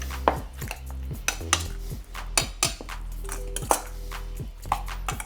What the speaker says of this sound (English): Usually I'll just use my hand and mix it up.